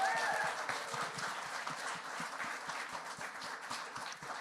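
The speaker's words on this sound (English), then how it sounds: "Please give her another round of applause." Audience applause at a public power economics panel, a steady, fairly distant patter of clapping running throughout without a break.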